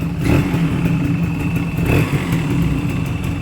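A Yamaha Speed Mx motorcycle engine idles steadily right after starting, a close, continuous low rumble with a light mechanical clatter and no speech.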